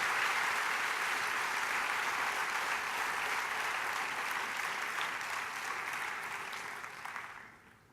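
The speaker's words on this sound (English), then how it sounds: "Ladies and gentlemen, a round of applause for Kelly Curry." A large audience at the Small Giants Live event at One Young World applauds an entrepreneur, steady distant clapping that holds evenly for several seconds before tapering off.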